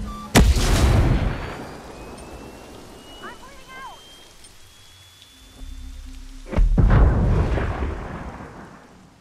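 Gunfire and a frag grenade explosion in the video game Ghost Recon Breakpoint on PS5: a sharp loud blast opens, a quieter rumbling gap follows, then a second heavy detonation swells up near the end.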